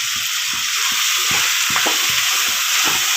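Ground masala sautéing in oil in a pan for sambar, a bright, dense sizzle running throughout with regular scraping strokes of a spoon about every half second, close up and without speech.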